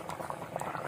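Yellowfin tuna adobo bubbles in coconut milk in an uncovered pan, a brief close burst of dense popping and gurgling simmer.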